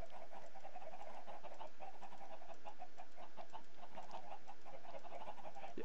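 Many chickens in a Minecraft chicken farm cluck and chirp together in a busy, continuous murmur, steady and fairly quiet, with no talking over it.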